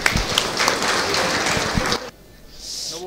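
Audience applause at a devotional discourse on India's eighteen sacred rivers, a dense wash of clapping filling the first two seconds before dropping away to a quieter tail.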